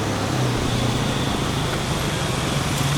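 Car traffic on a street in Tulum, Mexico, a continuous dense roar of passing vehicles and engine hum, fairly loud and close, with no clear voices.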